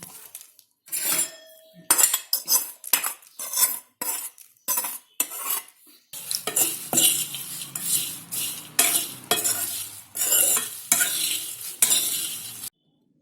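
Puffed jowar and puffed rice chevdo being mixed in a pan with peanuts, dal, cashews and raisins: a steady run of dry rustling and scraping strokes with light clinks of a spoon against metal, close and clear, with no talking.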